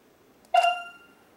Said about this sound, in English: The dong sound means the camera has received the configuration data from your smartphone device.